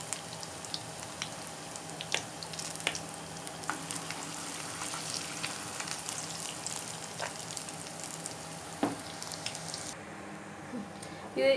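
Whole moong dal bhajiyas fry in a pan over medium heat, giving a quiet, steady sizzle with soft pops and a few stirring clicks.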